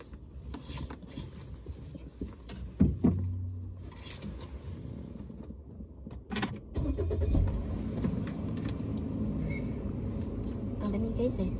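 A car engine starts and idles in a vehicle's cabin, with a clunk, a brief cranking burst and then a steady low hum, while people talk over it.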